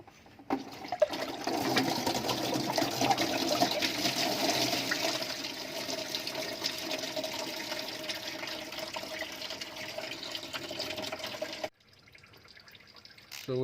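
Coolant gushes out of a removed hose during a water pump job on a 3.8L/3.9L Ford Mustang, a steady pouring splash that runs for about ten seconds and then cuts off to quiet.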